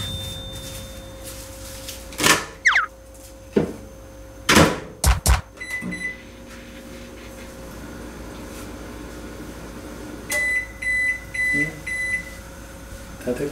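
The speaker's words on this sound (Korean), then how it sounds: "랩을 씌운 다음에 전자레인지로" A microwave oven heats food covered in plastic wrap, giving a steady electric hum throughout, with a few loud clunks of the door and handling near the start and a series of short, bright beeps toward the end.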